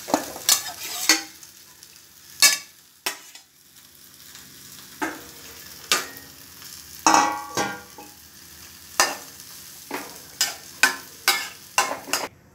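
Katla fish goes into a simmering curry of potatoes and flat beans, with sharp scraping clatters from a spoon against the pan at irregular intervals over a low, quiet bubbling sizzle, and no voices.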